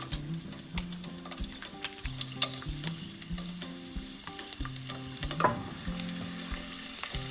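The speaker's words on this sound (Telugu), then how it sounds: "ఇది కొంచెం కలర్ చేంజ్ అయ్యేంత వరకు ఫ్రై చేసుకోవాలి తాలింపు గింజలు" Tempering seeds frying in hot oil: chana dal, urad dal, mustard and cumin seeds with dried red chillies, a steady close sizzle with sharp crackles and pops, and occasional scraping of a stirring spoon.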